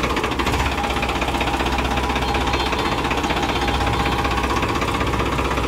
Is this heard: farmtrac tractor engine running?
yes